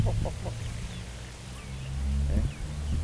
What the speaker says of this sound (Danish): Ja, så kommer alle hønsene.